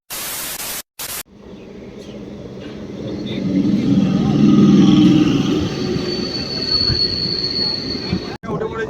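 A crowded passenger train pulls into a Bengali railway station on a hot day, its wheels squealing and rumbling as it nears and slows. The loud, swelling roar runs through most of the clip over a faint background of people.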